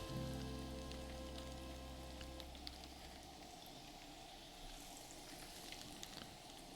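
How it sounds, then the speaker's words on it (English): White bass fish deep-frying, fully submerged in oil in a pan over an open flame, give a steady, fairly quiet bubbling sizzle with scattered small pops, like light rain on a surface, under a low flame rumble. "you're kind of deep frying them because they're completely submerged"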